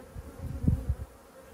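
Honeybees buzz around a hive box during a spring beekeeping visit, a low droning hum that swells and fades in a few short pulses, fairly close and moderately quiet.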